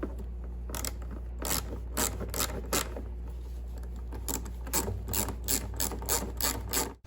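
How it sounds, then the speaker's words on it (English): A ratchet clicks in quick bursts as fuel line clamps are tightened on a Tecumseh snow blower engine, the sharp rattling strokes repeating close up over a low steady hum. "now we just need to tighten up the last 2 fuel line clamps."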